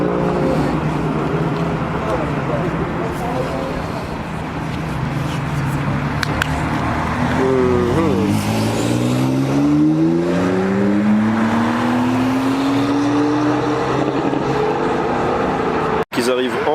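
A line of Porsches, led by a 918, arrives and drives past. Engines drone at first, then one car accelerates with a rising, swelling note as it goes by, ending in a sharp click. Voices talk over the traffic.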